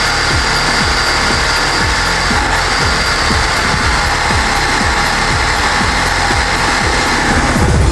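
A high-speed RC car's electric motor runs flat out, a loud, steady high-pitched whine with a rapid repeated ticking pulse that never lets up from start to finish, close by and alone.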